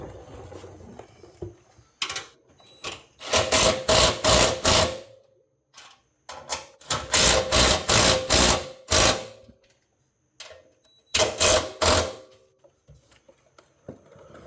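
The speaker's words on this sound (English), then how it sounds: "I'm going to tighten our bracket up. That's 11, the two 11mm stainless bolts." Two 11mm stainless bolts on a diffuser bracket of a Hellcat are tightened with a ratchet, heard as close, loud bursts of rapid clicking separated by short pauses and softer handling sounds.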